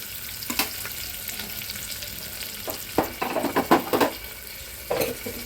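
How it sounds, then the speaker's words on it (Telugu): A medium onion frying in a pan for vegetable pulao, with a soft continuous sizzle broken by several close scraping stirs of a spatula against the pan, clustered toward the end. "మీడియం సైజు ఆనియన్ ఒకటి వేసుకొని వేపుకోవాలన్నమాట"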